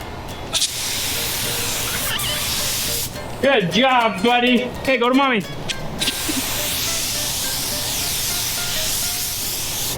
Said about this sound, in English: this is water-based paint, and there's a full downdraft spray booth